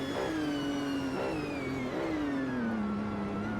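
A Maures GTR, the Mercedes CLK GTR race car, accelerates on the Nürburgring with a steady, droning engine note that slowly changes pitch, loud and continuous, with no talk over it.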